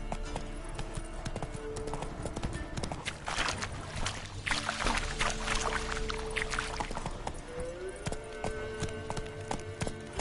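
Roach, a horse in The Witcher video game, gallops with rapid, steady clip-clop hoofbeats, close and continuous over a busy, splashy background.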